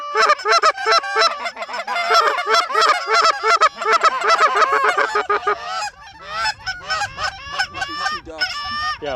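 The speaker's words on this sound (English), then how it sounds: "here come the goose" Geese honk loudly and continuously during a goose hunt, with many overlapping calls that thin into scattered honks toward the end and a low rumble underneath.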